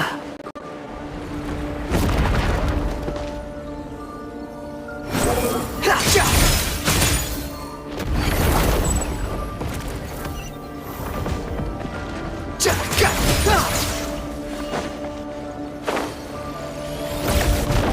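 In Genshin Impact, a breakable wall is struck and smashed, producing several loud crashing impacts and crumbling bursts spread across the stretch, with quieter game ambience between the hits.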